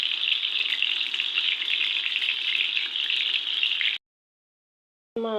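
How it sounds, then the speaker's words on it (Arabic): Chicken meatballs fry in oil until golden, giving a steady loud sizzle for about four seconds before it cuts to silence, followed by a brief new sound at the very end. "هنايا راني نقلي فيهم، خليهم ياخذوا اللون الذهبي برك"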